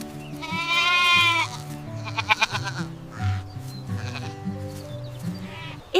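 A goat lets out a single wavering bleat near the start, over soft stepped background music that keeps playing afterward, with faint further bleats.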